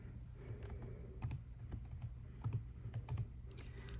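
Laptop keyboard keys tapped while entering a command: irregular soft clicks in short bursts, close but quiet, with no talking.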